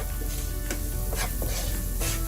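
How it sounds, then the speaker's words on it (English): Chili flakes and spice powders being stirred in a hot frying pan, a close steady sizzle broken by several quick scraping strokes of a spoon, with no talk. "I'm going to give it a light stir, just mix it around, make sure that all of the powders are"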